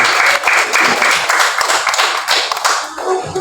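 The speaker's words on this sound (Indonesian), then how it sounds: "Sekali lagi tepuk tangan dong." A classroom of third-grade children claps their hands together, a loud, dense burst of applause that continues steadily for a few seconds at close range.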